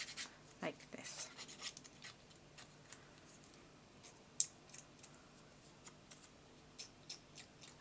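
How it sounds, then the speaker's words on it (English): Paper edges on 12x12 scrapbook paper being roughed up with the edge of scissors, soft scraping rubs and brief scratchy strokes repeated irregularly up close, with a few sharper ticks and quiet room noise. "I'm just using the edge of my scissors"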